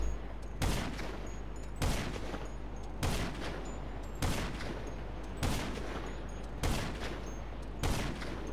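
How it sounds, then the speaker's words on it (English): Repeated heavy gunshots from a firefight in GTA 5 Online, seven sharp loud blasts at a steady rhythm about every 1.2 seconds, each ringing out over a constant low rumble, with no talking. "Jeez, that's a lot of shots."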